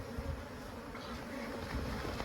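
Honeybees at a hive as foragers return, a dense, continuous buzzing hum close by and steady throughout, with no talk.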